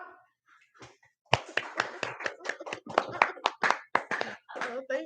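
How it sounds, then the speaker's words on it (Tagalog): Audience clapping along at a Filipino statement against fake news, a run of sharp hand claps in a quick rhythm, near and fairly loud, following a brief quiet start with faint voices mixed in. "Pumalakpak kayo kung hindi kayo naniniwala kay Macalma."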